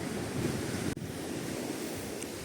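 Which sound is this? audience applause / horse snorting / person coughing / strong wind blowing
strong wind blowing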